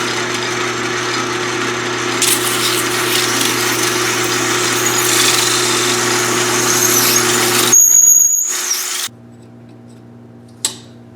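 Outer diameter of an old differential bearing race being machined down for the AMC 20 rear end, a steady humming, scraping machine whine for about eight seconds before it cuts out to a quiet hum and a single click.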